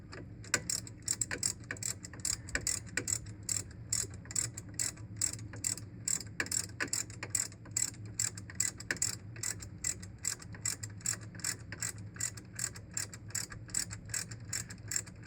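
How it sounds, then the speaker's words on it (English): A 1/2 inch drive ratchet with a 16mm socket clicks in a fast, continuous stream of fine ticks, faint and close while working on a Range Rover L322. "a 16mm socket, 1/2 inch drive, ratchet"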